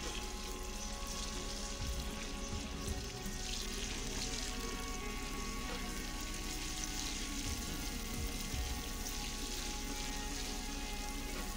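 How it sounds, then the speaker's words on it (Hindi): Garlic and ginger frying slowly in oil for a Lahori street-style chikar cholay, a steady soft sizzle and crackle that continues evenly throughout with no talking. "इसे ऑयल में आहिस्ता आहिस्ता फ्राई करेंगे।"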